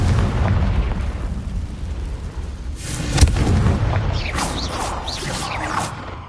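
Explosive blasts from the Confringo fire spell in Hogwarts Legacy, a deep rumbling boom with a sharp crack midway, followed by whooshing bursts and crackling debris, loud and close.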